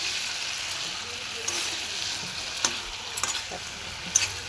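Spicy mutton kosha fries in a pan with a steady, close sizzle, broken by occasional scraping and tapping of stirring.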